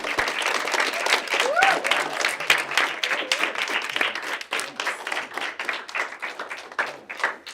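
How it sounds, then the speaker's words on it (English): An audience applauds to welcome a musician. A burst of many hands clapping is close and lively, with voices cheering and talking underneath, and it thins out toward the end. "Let's give him a round of applause."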